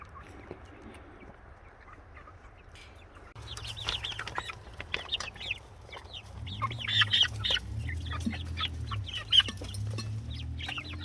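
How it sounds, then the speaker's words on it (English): Several chickens, hens and roosters, cluck and murmur close by, growing busier after a quiet start, with a few sharper squawks over a low rustling background. "Here's our chickens. We've got 17."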